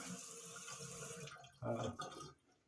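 Tap water running into a sink, a faint steady hiss that briefly grows louder and splashier before cutting off near the end.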